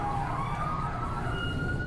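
A fire engine siren wails in GTA 5, a loud continuous rising electronic tone sweeping over steady traffic rumble, close and sustained without pause.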